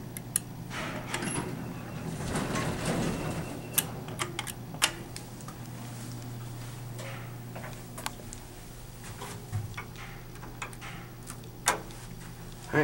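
Relay in the controller of a long hydraulic elevator at Le Chateau Village, Frontenac, Missouri: a quick series of sharp, dry clicks and ticks at irregular intervals over a low steady hum, close and fairly quiet.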